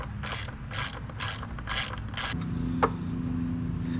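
A hand ratchet clicks in five quick bursts while bolts are tightened on an LS4 V8 engine, each burst a short, close run of metallic pawl clicks over a steady low hum, followed by a single sharp tap.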